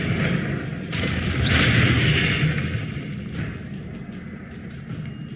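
Confringo blasting spells burst in Hogwarts Legacy combat, a deep booming explosion swelling loud around the second mark, then rolling rumble and debris settling with scattered crackles as it fades.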